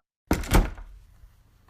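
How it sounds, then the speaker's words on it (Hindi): A single solid door thud, close and fairly loud, with a short fading rumble after it. "अचानक एक कमरे के अंदर से दरवाजा खुद ब खुद बंद हो गया"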